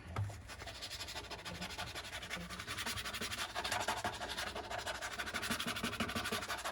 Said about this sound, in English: A little bit of scrape and a scrub